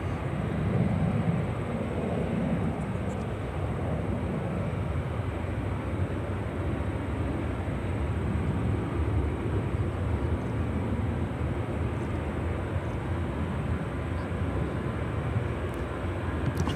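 Queen airliner moving on the ground at O'Hare airport, a distant steady jet engine roar and rumble holding evenly for the whole stretch with no voices.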